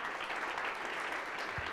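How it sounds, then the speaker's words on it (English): Audience applause at the close of a university games lecture, a steady dense patter of many hands clapping at moderate level, continuous for the whole stretch with no voices over it. "Let's give a big applause."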